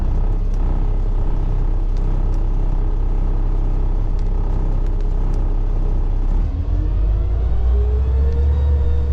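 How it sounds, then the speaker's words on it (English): A CDL dump truck's diesel engine idles steadily at around 1500 RPM with the PTO engaged, a loud, continuous low rumble whose pitch climbs slightly toward the end. "Let it idle about 1500 RPMs"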